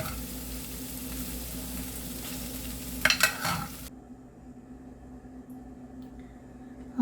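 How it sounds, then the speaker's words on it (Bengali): Boiled peas going into fried spice masala for ghugni, a steady close sizzle with a burst of scraping and clatter as the peas are stirred in, then fading to a faint, quieter simmer. "আমি এবারে সেদ্ধ করে রাখা মটরগুলো দিয়ে দেবো।"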